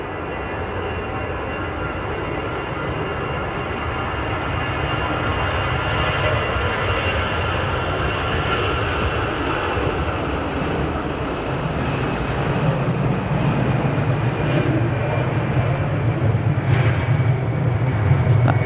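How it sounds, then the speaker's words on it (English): An EasyJet Airbus A320 taxiing at Manchester Airport, a steady jet engine whine and rumble heard from a distance that grows slightly louder toward the end, with people talking nearby. "It's an EasyJet A320 on the way to Sofia."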